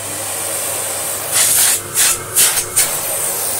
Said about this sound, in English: you'll now tell that the airflow is louder than the motor in the vacuum